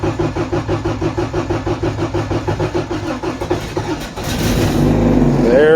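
An Acura Integra cranks with a rhythmic, even starter churn for about four seconds, then catches and roars into a loud, steady running idle up close.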